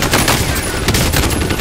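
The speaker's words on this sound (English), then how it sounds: "that's a gun" Video game gunfire as a dense, loud, continuous rattle of rapid shots with no gaps, filling the whole short stretch, with no speech.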